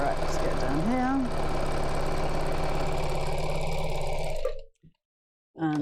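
A sewing machine runs steadily, stitching the side of a bag lining, its even mechanical hum continuing for several seconds under a voice before stopping abruptly.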